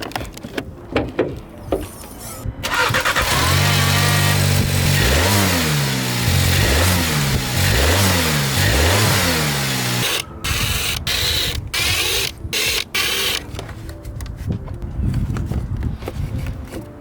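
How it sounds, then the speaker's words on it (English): A turbocharged car engine with its air filter removed is revved repeatedly, rising and falling surges for several seconds with intake whoosh, followed by idle and clicking clatter near the open engine bay. "I would like to rev it without the filter and then with the filter"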